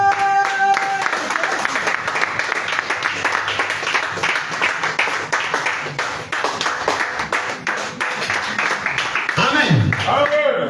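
A church congregation at an evening service claps steadily in rhythm, a dense sustained patter of many hands with voices mixed in throughout.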